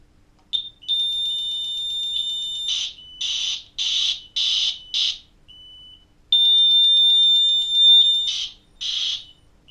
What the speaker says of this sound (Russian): Сигнал тревога, маяк номер 5 сработал.